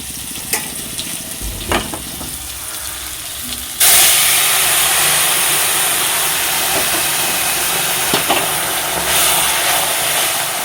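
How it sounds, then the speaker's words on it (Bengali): Hot water is poured into a pan of frying food for a mustard-paste fish dish, setting off a sudden loud, sustained sizzle and hiss after some quieter kitchen clatter. "এই যে এখানে জল গরম বসিয়েছি, জল গরমটা দিয়ে দেবো।"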